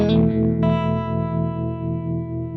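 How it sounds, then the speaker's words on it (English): An electric guitar runs through a Crazy Tube Circuits White Whale V2 pedal on its harmonic tremolo setting: a strummed chord, then a second chord, ring out with a gently pulsing wobble as they decay. "at the moment I've got it in the harmonic tremolo, which is my favourite sort of tremolo"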